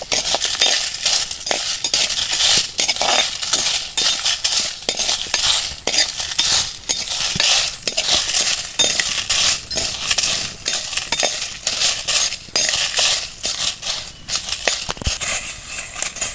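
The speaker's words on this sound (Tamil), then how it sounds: "இப்போ மிளகா வத்தல் நம்ம உள்ள தேவையான அளவு காரம் போட்டு நம்ம வறுத்துக்கலாம்" Dried red chillies roast in a pan with scraping, clinking stirring strokes against the metal, busy and close, with a continuous rattle and repeated sharp contacts and no speech.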